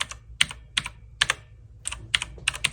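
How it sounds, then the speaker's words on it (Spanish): Clicky Outemu Blue switches on a pink E-yooso K-620 mechanical gaming keyboard, pressed one at a time in uneven bursts of sharp double clicks, close and crisp with no speech. "identificamos el sonido de cada clic al presionar cada una de las teclas"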